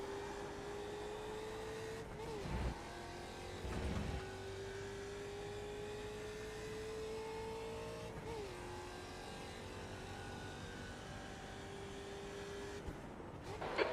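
V8 race car engine in a sim racing game practicing for the Sebring 12 Hour, a steady loud drone that holds while climbing in pitch and drops sharply at each upshift, continuous throughout.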